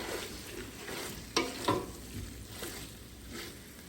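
Salt pork being stirred into a pot of potatoes and green beans: steady wet simmering sizzle with a soft scrape of the spoon and two sharper knocks against the pot, close and moderately loud.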